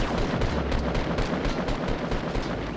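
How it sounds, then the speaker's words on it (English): Gunfire in the Fortnite Battle Royale video game: a dense, continuous stream of rapid shots and impacts lasting the whole moment, loud and close, with no talking. "So I go in and I start getting shot."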